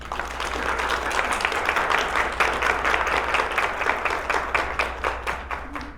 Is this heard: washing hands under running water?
no